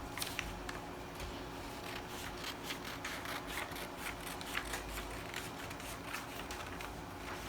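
Scissors snip through fabric while a dart is trimmed on a peplum top, giving a faint series of quick, regular crisp cuts over a steady low background hum.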